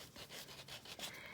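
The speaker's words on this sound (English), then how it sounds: "I have a sanding tool and I'm going to sand that down as best I can" Quiet, rhythmic rubbing of a small sanding tool on a wax seal, soft back-and-forth scratchy strokes in quick succession, close but faint.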